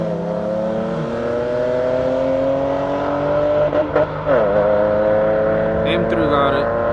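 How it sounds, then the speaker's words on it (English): A BMW M3 racing an Audi, engines revving with rising tones that climb through the gears, loud and close, followed by a whooshing pass, with people talking over the noise. "that is an M3 versus the Audi"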